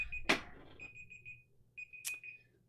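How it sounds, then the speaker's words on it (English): An electronic alarm set as a laundry reminder beeps in a steady high-pitched pulsing pattern, with two sharp clicks or taps cutting through, fairly faint and alone in a quiet room. "that is my alarm"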